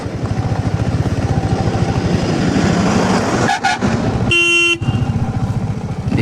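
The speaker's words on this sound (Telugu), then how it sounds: "ఏం రావు, అనవసరం హార్న్ కొట్టుకోవడం" Two short blasts of a vehicle horn on a ghat road between Araku and Lambasingi cut through steady, rumbling engine noise from a moving vehicle among tipper trucks; the second honk is louder and longer.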